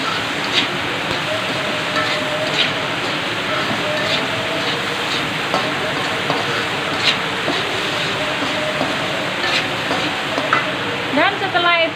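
Leeks and fried meatballs stirred in a hot pan, giving a loud continuous sizzle with scraping stir strokes throughout, up close, while a voice talks over it.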